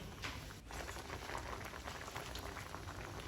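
Pork red curry boiling in a pot, a steady dense bubbling and simmering hiss that stays close and continuous throughout, with no voices.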